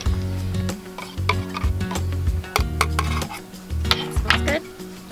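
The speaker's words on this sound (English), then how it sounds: "and we have to stir." A spoon clinks and scrapes against a cup while stirring a salted cocktail at a desert campsite, a quick run of close, bright metallic taps with short pauses, alone without talk.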